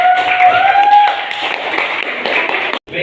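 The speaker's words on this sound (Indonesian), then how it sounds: "Beri tepuk tangan dulu." Seminar audience in a public speaking class workshop applauds a speaker, steady close clapping from a small group that cuts off abruptly.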